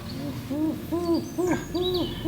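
A hunter softly imitating wood pigeon calls near a hide: a run of four or five low, cooing hoots in a steady rhythm, close and gentle, over faint background noise.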